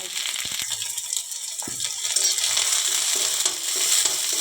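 Chopped onion, green chili and garlic dropped into hot oil in a home kitchen, giving a steady close crackling sizzle with a few sharp clatters near the start.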